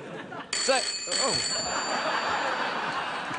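A telephone rings on a late-night talk show set, a trilling electronic ring starting abruptly and sustained, with audience laughter and chatter mixed underneath.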